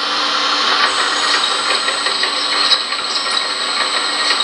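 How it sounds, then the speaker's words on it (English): Tracks of an RC4WD 360L scale excavator model creeping along, a continuous close mechanical whir with fine ratcheting gear clicks and light irregular ticks, steady and fairly loud. "you'll hear the tracks moving"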